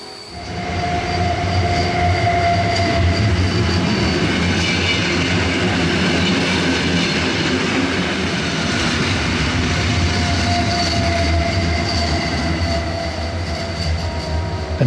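Steady, loud rail rumble from the Bergen train on the Flåm railway, with continuous wheel noise and faint squeal from inside the carriage, no voices.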